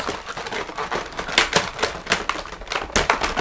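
Crinkly plastic and paper rustling with quick ticking taps as twist ties are undone on a NECA TMNT movie figure box set's packaging, close and busy without pause.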